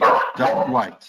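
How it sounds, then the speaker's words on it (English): Dogs bark at home in a few loud, close bursts, overlapping someone speaking. "Sorry about the dogs"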